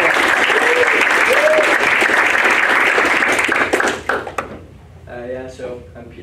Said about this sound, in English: So let's give Peter a round of applause.